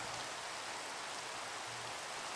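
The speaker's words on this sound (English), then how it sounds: "And it's raining. It's always raining." Steady rain falling in Minecraft, a dense even hiss of drops that fills the background without pause, soft and continuous with no talking.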